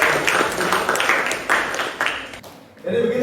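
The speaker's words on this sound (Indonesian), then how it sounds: "Tepuk tangan dulu." Audience applause during an educational talk, a steady wash of clapping for about two and a half seconds that stops abruptly, followed by a voice resuming speech.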